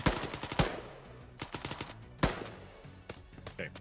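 Machine gun firing in a World War II-style multiplayer shooter set at night in Namalsk: several short bursts and single sharp shots, loud and close, separated by brief pauses.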